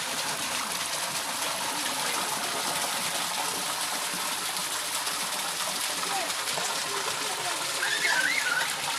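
Water rushes and splashes continuously over rocks, a loud, steady flowing mountain stream close by with no pauses.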